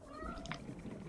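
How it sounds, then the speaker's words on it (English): A pet cat gives a single brief, faint meow in a quiet room, barely rising above the low background hum. "My cat is here. I don't know if you can hear him."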